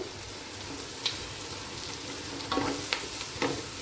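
Chilli powder and ginger-garlic paste frying in a pan for a cucumber chicken curry, a soft steady sizzle with a few sharp clinks of a spoon stirring near the end.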